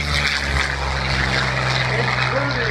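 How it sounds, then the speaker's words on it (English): A P-40 Warhawk propeller warbird flies over the Virginia Beach airshow, its engine a loud, steady roaring drone throughout, with a faint voice underneath. "including the P-40 Warhawk, just taken to the skies here in Virginia Beach."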